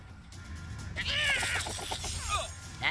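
A cartoon cat meows in the South Park video game, a few short high-pitched mewing calls heard over a low steady game background.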